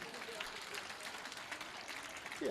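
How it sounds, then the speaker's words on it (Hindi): Audience applause at a Hindi comedy poetry gathering, a sustained crowd clapping at moderate distance, even and continuous, with a brief voice breaking in near the end. "लेकिन ताली आपने बराबर बजाई"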